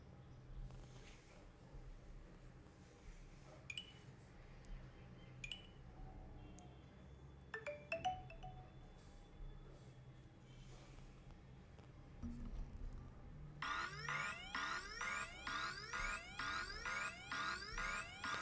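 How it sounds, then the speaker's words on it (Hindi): A phone plays a vehicle safety QR app alert near the end, a rapid, repeating bright electronic chime pattern after quieter clicks and faint background noise, close and clear. "आपको कुछ इस टाइप की अलर्ट की आवाज़ भी आएगी"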